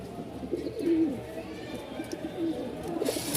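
Soft, repeated cooing from a Rajshahi Giribaz male pigeon kept in a cage, a few low throaty coos spread over a few seconds, fairly close with faint background noise.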